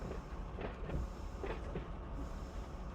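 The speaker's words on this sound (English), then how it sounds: "Now the train's just sliding out like we wanted to." A freight train of GM autoracks rolls slowly through San Bernardino in the Run 8 train simulator, a steady low rumble with faint repeating clacks of wheels over rail joints, moderately distant and without talk.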